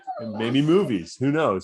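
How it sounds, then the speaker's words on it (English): A boxer dog whimpers in high, wavering whines, two drawn-out cries with a short gap, close by and mixed with a person talking. "No, that's my dog."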